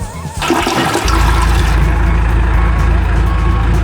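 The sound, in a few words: toilet flushing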